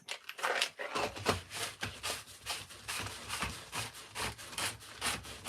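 A hand saw cuts across a piece of wood for carving, with a steady run of rhythmic back-and-forth rasping strokes, close and clear.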